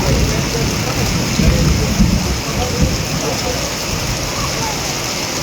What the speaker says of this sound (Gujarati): જોરદાર વરસાદ પડી રહ્યો છે અત્યારે હળવદ તાલુકાના કડિયાણા ગામ